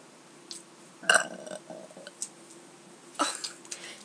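A person lets out a couple of short, close burps, the first sharp and abrupt, the second following after a pause, with faint throaty noises between them in a quiet room.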